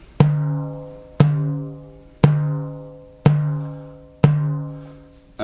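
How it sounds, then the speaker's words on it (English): Frame drum bass strokes called Doum: five deep, resonant hits spaced about a second apart, each ringing and decaying slowly, played alone and close. "The first one is the bass sound of the frame drum"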